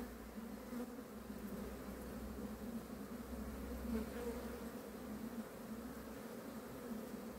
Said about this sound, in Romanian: Are și a 10 albine aici, uite cât are.